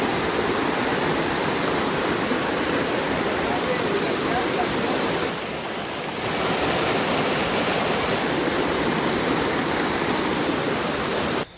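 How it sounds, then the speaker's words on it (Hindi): A small waterfall on the Parasnath trek during the rainy season: a loud, continuous rush of falling water heard close by, with a short, slightly softer stretch in the middle. "छोटा सा वाटरफॉल था"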